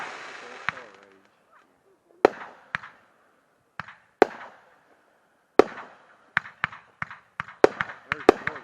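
Color Rage consumer fireworks go off outdoors as a string of sharp, loud cracks and pops, sparse at first and then in quicker clusters, with fizzing crackle between some bursts.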